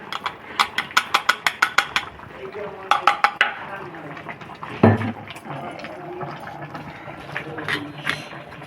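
A brass mortar and pestle (hamandista) pounds in a Bengali home kitchen, with a rapid run of sharp metallic strikes, another short burst, then a heavy thud, close and loud, followed by faint scraping.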